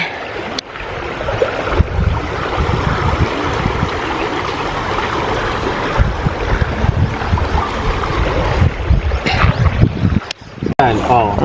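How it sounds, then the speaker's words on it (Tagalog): A stream in Sariaya, Quezon rushes and burbles steadily throughout, a loud, continuous flowing-water sound with faint voices now and then. "Tunog ng agos ng tubig."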